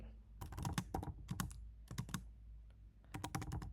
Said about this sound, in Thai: ตรงนี้ผมจะพิมพ์ภาษาไทยนะครับ